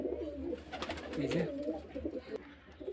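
Pigeons cooing in a seller's loft, soft rolling coos repeating close by over a low steady hum, with a faint voice now and then.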